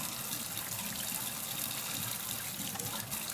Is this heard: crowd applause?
no